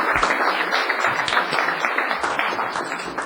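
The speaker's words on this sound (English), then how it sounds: "Let's give them a round of applause." An audience at a town council meeting claps steadily in a dense, continuous round of applause that fills the room from start to finish.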